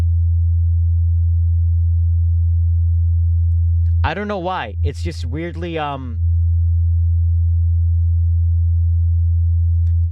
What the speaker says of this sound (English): My favorite one so far though is the sine wave.